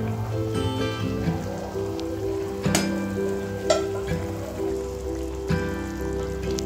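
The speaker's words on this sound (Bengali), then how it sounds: "এবার দিয়ে দিচ্ছি ভেজে রাখা চিংড়ি মাছ" Fried prawns go into a simmering coconut milk curry for chingri malai curry, with a steady soft sizzle and bubbling under sharp clinks and taps of a utensil against the pan, and no voices.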